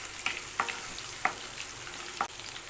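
Onions frying in hot oil with crushed garlic for Aachi-style prawn thokku, a steady broadband sizzle with a few sharp stirring clicks and scrapes scattered through it, fairly close and even.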